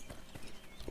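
Horse hooves clip-clopping in Assassin's Creed III, a few faint, soft thuds at a walking pace in a quiet game scene.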